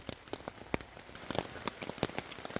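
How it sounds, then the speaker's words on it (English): Rain patters on a tent in woodland, with scattered close drips tapping irregularly over a soft, steady hiss; quiet and no voices. "I love going to sleep when you can hear the rain on the tent."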